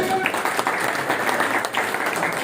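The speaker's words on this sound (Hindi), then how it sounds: "आपकी भरपूर तालियों में" Steady, dense applause from an audience at a political gathering, loud and continuous throughout.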